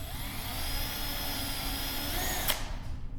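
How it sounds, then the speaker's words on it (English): A power drill runs steadily, driving a screw into a 2x6 and 1x6 while building a wooden chair, a continuous whirring close by that cuts off sharply near the end. "I'm putting the screw in, as well as drilling into the center of the 2x6 and the center of the 1x6"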